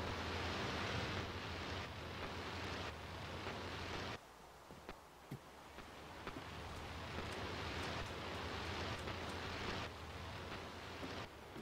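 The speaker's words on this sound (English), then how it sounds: "Oh, and of course it's raining." Steady rain in Minecraft, a broad continuous hiss that runs loud and even, briefly dropping away around the middle before returning at full strength, with no voices over it.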